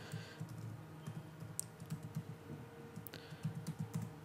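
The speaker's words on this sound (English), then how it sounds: "So I'm just going to fill in my password." A password is tapped out on a computer keyboard: quiet, close keystrokes in uneven bursts of clicks, with no voices.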